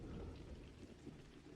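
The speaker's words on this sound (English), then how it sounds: "I like how the rain sounds." Rain and low thunder from the Camp Buddy game, a dense, faint patter with a deep rumble underneath, steady and distant, with no voices.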